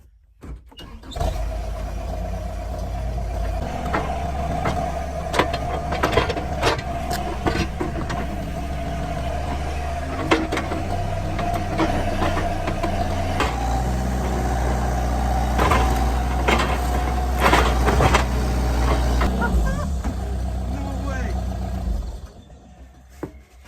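A skid steer fitted with a log splitting hitch runs steadily, its engine a loud, continuous drone with scattered knocks and clunks of the hitch working, until it cuts off near the end.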